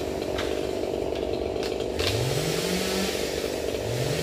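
Chainsaw cutting branches of a large Indian mahogany tree beside a house roof in Tân Phước, Bà Rịa–Vũng Tàu; a steady engine drone that rises in pitch in two revving sweeps, close and continuous.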